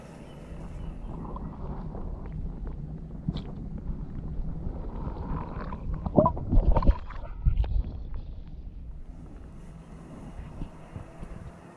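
Wind gusting across a lakeside carp-fishing swim, a steady low rumble and buffeting that swells toward the middle and then eases, with faint scattered knocks and no talk.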